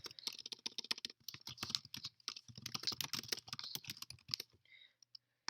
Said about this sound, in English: I will type in the following 4 addresses.